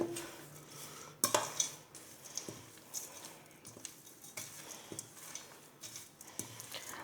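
Spoon stirring a mix of ingredients for a winter jaggery and nut sweet, with scattered scrapes and clinks against the bowl, one sharp knock near the start, moderately close and quiet, no voices.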